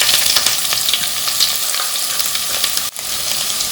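Sliced onions sizzle steadily in a hot pan with a handful of curry leaves, a close, continuous crackling fry with faint stirring scrapes and one brief knock near the end.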